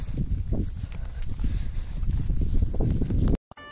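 A horse led toward the stable gives off steady clip-clop hoofbeats at a walking rhythm, close and fairly loud over low rumbling background noise, before cutting off near the end.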